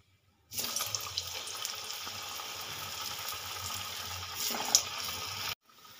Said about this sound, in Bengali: এবার আমি তেলে ভেজে নেব।